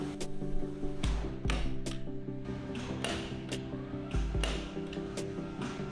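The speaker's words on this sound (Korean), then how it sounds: "스폿 용접기를 통해 들어간 부분을 빼줍니다" A spot welder dent puller works on a dented Tesla body panel stripped of paint, producing a series of sharp clicks and a few heavier thumps at irregular intervals over a low hum.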